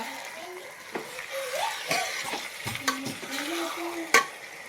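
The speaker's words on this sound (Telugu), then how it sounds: "చికెన్ కలుపుకుందాం దోస్తులు." Chicken being stirred into curry in a pan, with soft scraping strokes and light frying underneath, along with faint voices and other tonal background sounds.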